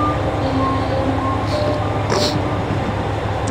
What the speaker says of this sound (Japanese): さあ入ってきました。 キハ47ですね。